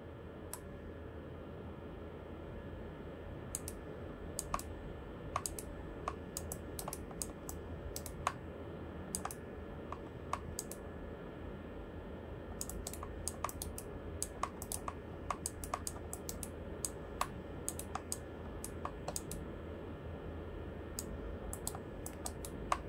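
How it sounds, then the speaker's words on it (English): Loud clicky buttons on a GameSir X2 controller pressed during a WRC7 rally game, sharp irregular clicks in quick bursts over a constant low background hum. "These buttons are so loud and so clicky that it becomes a total distraction."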